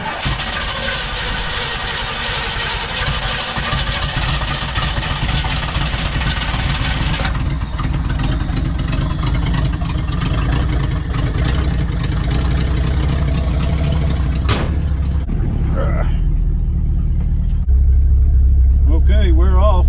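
An abandoned Ford Galaxie station wagon with drum brakes cranks over and settles into a steady, close idle that runs on for many seconds with a shift in tone partway through.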